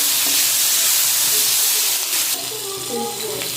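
Potatoes and green chillies frying with salt in a pan, a steady loud sizzling hiss close up that drops slightly toward the end.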